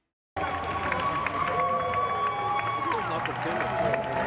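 A crowd applauds and cheers at an Apple Store on iPhone 6 launch day, a steady wash of clapping with whoops and chatter mixed in, continuous and fairly distant.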